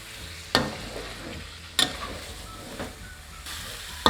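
Reduced coconut milk being stirred in a pot, a soft bubbling hiss with several distinct spoon knocks against the pot spaced a second or so apart.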